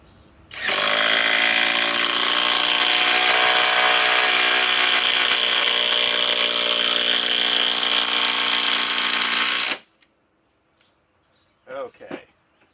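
A Flex compact impact driver sinks a timber screw into wood in one sustained, loud, high-pitched whine of about nine seconds. It stops abruptly, followed by near silence and a faint brief rustle.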